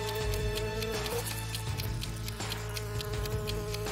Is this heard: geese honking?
no